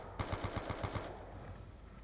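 AK-74U gunfire in a Call of Duty Zombies video game: a rapid automatic burst of about eight close, loud shots, then a fading tail with no talk.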